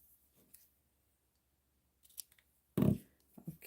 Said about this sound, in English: So I'm going to cut a piece, kind of like long enough so I can wrap this around